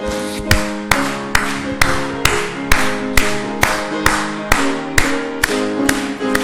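A church congregation claps in steady rhythm while singing a hymn at a Sunday service, with the regular, loud claps landing about twice a second over the sustained, harmonious sung chords and organ-like tones.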